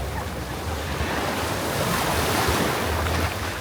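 Surf washes onto the beach at Labadee, Haiti, a continuous loud roar of breaking waves with wind buffeting the microphone, no voices heard.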